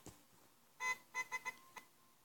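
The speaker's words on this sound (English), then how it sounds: "Why are you honking?" A car horn honks in the bridge-building video game Bridge Constructor. It gives one short toot, a pause, then three quick beeps and a final brief blip, all clear and alone.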